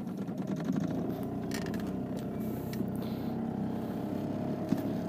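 A homemade single-lever throttle and reverse control runs a motor in forward gear as throttle is added, giving a steady droning engine hum with a dense low rumble that holds at an even level throughout.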